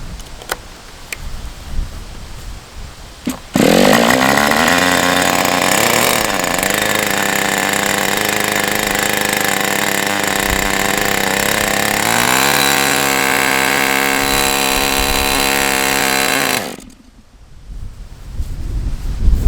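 An Evolution 46 model glow engine running on Motul 2T fuel starts abruptly and screams loud and steady at high revs for about thirteen seconds, its pitch shifting as it is tuned, then cuts off into quiet.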